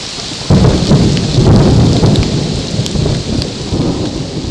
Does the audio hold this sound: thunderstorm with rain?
yes